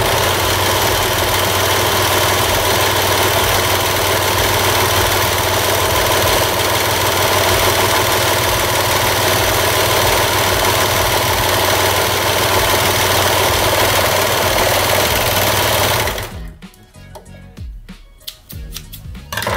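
A sewing machine stitching a lettuce hem on knit fabric runs as a loud, continuous mechanical whir for about sixteen seconds, then stops abruptly, leaving faint handling noises.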